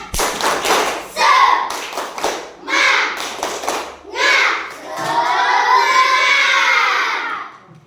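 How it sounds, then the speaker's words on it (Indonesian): A school class performs a rhythmic spirit clap: bursts of hand claps in patterned groups alternate with children's shouted chants, ending in a sustained shared cheer, loud and close in a classroom. "Sekarang kita tepuk semangat satu kali."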